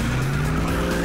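A muscle car launches hard with its engine revving and tires squealing, a brief, loud, sustained screech over the engine roar.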